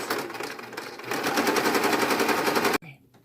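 A sewing machine stitches a seam along a fabric face mask in a rapid, even rattle that runs close and steady for nearly three seconds, then cuts off abruptly, leaving faint room sound.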